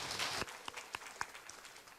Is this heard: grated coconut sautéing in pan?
no